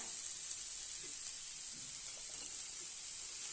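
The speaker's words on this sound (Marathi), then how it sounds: "तवा गरमच आहे आपण खाली ठेवलेला आहे त्यामध्ये थोडीशी कोथिंबीर घालूया" Fresh coriander sizzles on a hot griddle taken off the flame while tomato thecha is made, a soft, steady hiss with faint crackles, low in level and with no talk.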